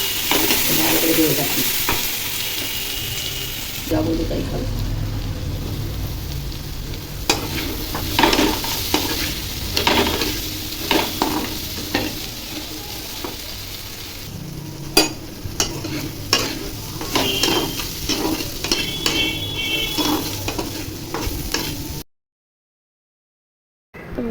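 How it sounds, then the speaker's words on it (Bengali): Potatoes frying in a pan while being stirred, a steady sizzle under repeated scraping and clinking strokes of a spatula against the metal, close and lively, with a few brief pauses before the sound cuts out near the end. "এখানে আমি একটু আলুটা ফ্রাই করে নিয়ে"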